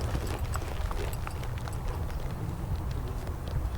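A colt being started under saddle moves with hooves thudding on the ground, a steady, close, low clip-clop of footfalls without talk.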